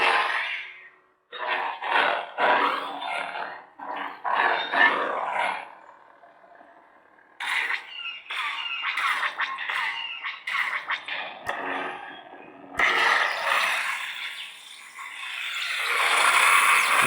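A custom Corran Horn lightsaber with a Nerfherder sound font on a Proffie board ignites and hums, then swings through loud, close whooshing, roaring sweeps and crackling clashes in uneven bursts. A hissing retraction comes near the end, with no talking.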